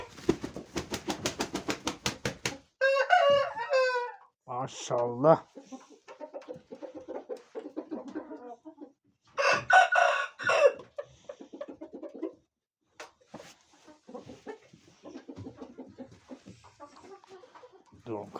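Speckled rooster among caged breeding birds and chicks, crowing in several short, harmonic calls amid clucks, with someone speaking briefly in between.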